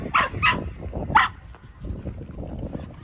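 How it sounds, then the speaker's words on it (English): A dog barks three times in quick succession, close and loud, then only quieter rustling background remains. "She's pretty good at barking at cows."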